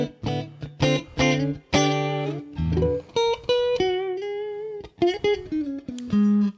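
Electric guitar played through a cheap £13 USB audio interface into a basic stereo desk, with a run of picked notes and chords, some clean and some driven, loud and close with short gaps between phrases.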